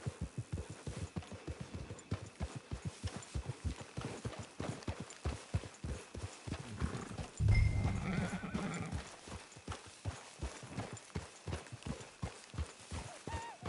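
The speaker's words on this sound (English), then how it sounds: "Get your horse." Horse hooves clip-clop steadily at a walking pace in the Red Dead Redemption Online video game, a moderately quiet, even rhythm with a brief snort or whinny partway through and faint background ambience.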